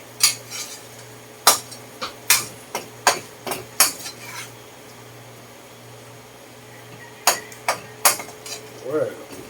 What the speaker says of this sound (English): I'm going to stir a little more while the temperature is dropping, so I can keep the onions blanched evenly.